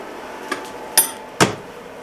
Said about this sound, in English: I always close the cover so I'm scraping off the build plate